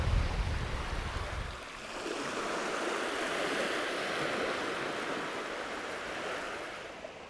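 Ocean waves wash steadily onto sheltered Newton Beach at Porthcawl on a sunny day, a broad continuous roar of surf with a brief low rumble at the start, no voices.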